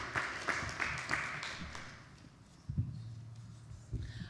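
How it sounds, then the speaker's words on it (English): A panel audience at a Denver tribal convening claps, loudly at first and then fading over a couple of seconds, before a low voice and room noise take over. "Round of applause for Liz,"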